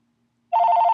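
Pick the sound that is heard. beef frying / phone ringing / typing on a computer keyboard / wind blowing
phone ringing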